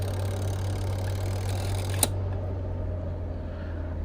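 Spin dryer motor of a twin-tub washing machine, just repaired, running with a steady low hum and a brief click midway, after which the high hiss drops away.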